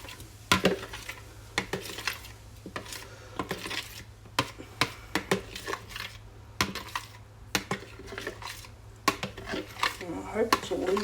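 Cooked microwaved pasta in sauce tipped from a container into a bowl, with a series of sharp clinks and clatters of spoon against dishes, irregular and close.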